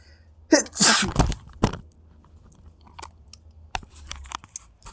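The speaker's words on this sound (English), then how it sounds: "Hold on, I gotta sneeze." A single loud sneeze bursts out near the mic, followed by a few faint clicks and rustles in an otherwise quiet room.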